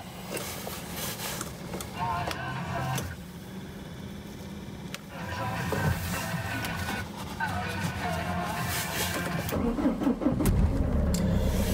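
A Renault car on a frosty day, its windscreen frozen, cranks and starts, then runs on in a steady engine hum that grows slightly louder. A voice talks over it.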